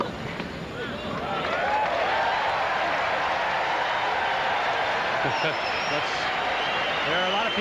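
Crowd at the 1990 US Open tennis match between Chesnokov and McEnroe, a sustained wash of applause and crowd noise filling the arena, with a commentator talking over it.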